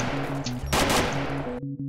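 Gunfire in the video game DayZ: a rapid automatic burst rattles off, followed by a loud nearby shot, with bursts repeating against a droning in-game background hum.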